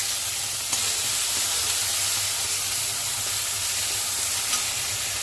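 Onion paste hits hot oil in a pan for a duck egg and cauliflower curry, giving a loud, even, close-up sizzle that holds steady throughout with a couple of faint clicks.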